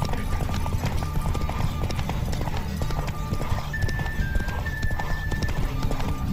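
In a horse race in the video game The Witcher 3, hooves pound in a fast, steady galloping rhythm, loud and close, with occasional whinnies and a faint voice underneath.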